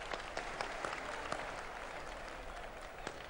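Steady applause from a large audience fills the hall at the inauguration of the Patanjali Research Institute in Haridwar, a dense, even wash of clapping heard at a distance and fairly faint.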